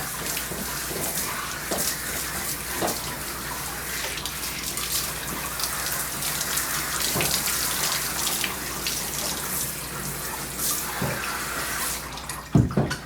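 Lukewarm water runs steadily from a tap while a matted Goldendoodle is bathed, a close, continuous splashing gush with occasional heavier sloshes, and a brief knock near the end.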